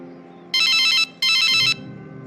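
An electronic phone ringtone sounds twice in an animated scene, each ring lasting about half a second. The bright trilling tone is separated by a short gap over a low, quiet background while the call goes unanswered.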